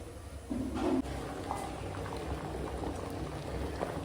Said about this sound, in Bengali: এখন দুধ দিয়ে দিয়েছি এখন দুধের সঙ্গে চালটা সিদ্ধ হবে